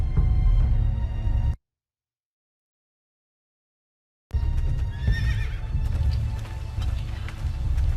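A horse in the Game of Thrones video game neighs with a clear whinny over a loud low rumble and clip-clop, cut by a stretch of full silence before the rumble and whinny return.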